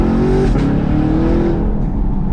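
A Chevrolet Camaro SS with a Corsa valved cat-back exhaust and double X-pipe revs loudly up close, its deep rumble rising and falling in pitch through a short burst of throttle.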